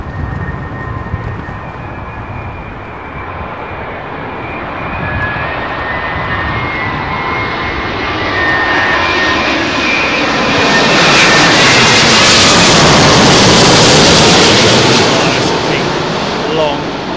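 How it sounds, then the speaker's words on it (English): A British Airways Boeing 787-10 lands on runway 27L at London Heathrow in windy conditions, its engine roar building steadily and loud, with broadband rumble and rising whine as it passes close by. "Long 787-10, I think, with British Airways."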